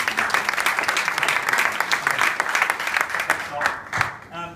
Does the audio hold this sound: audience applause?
yes